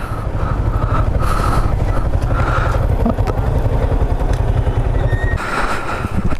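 A motorcycle engine runs steadily and loudly close by as the bike is brought to a stop for parking at a hilltop viewpoint on the Tamatungi road in Bandarban, with a continuous rumble and no talk.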